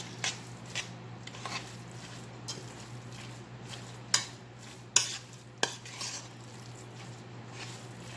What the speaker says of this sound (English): So just continue to add and stir a little at a time until you get the taste that you're looking for.